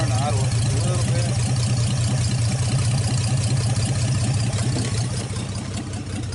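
A 1948 Nash car engine idling steadily nearby, a low continuous rumble with voices talking over it, easing slightly toward the end.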